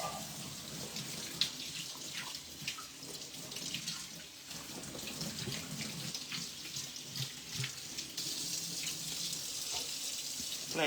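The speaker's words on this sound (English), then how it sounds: "Gotta wash your corn." Corn being washed under a running kitchen tap while making taco bean soup: a steady, close rush of faucet water with splashing and small handling clatter throughout.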